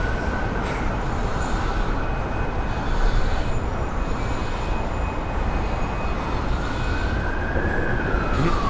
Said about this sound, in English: the trains are very loud